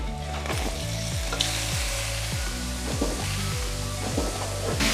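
Mutton frying in oil with chili powder, salt and spices gives a loud, steady sizzle, with repeated stirring strokes scraping through the pan close up and no speech.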